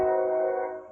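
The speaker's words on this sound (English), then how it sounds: "And I apologize for the train off here in the distance." A distant train on nearby railroad tracks at night gives a steady, sustained tonal drone, like a horn or rumbling railcars, holding level for about a second before fading slightly.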